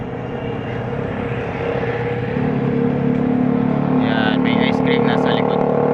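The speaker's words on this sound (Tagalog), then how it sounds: "Ang ingay naman ng sasakyan." Busy street traffic at night near Intramuros and Chinatown in Manila, a continuous loud engine rumble and roar that swells partway through, with high whining tones near the end and a voice talking over it.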